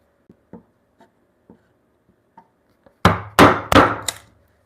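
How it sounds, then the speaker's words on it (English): Chisel work on a mortise and tenon joint for a timber-framed bunk bed: several light, scattered taps and scrapes, then three or four louder, close sharp knocks in quick succession near the end, with no talking. "turn the chisel around and use the micro bevel, like angle it slightly, and then the micro bevel will do the job"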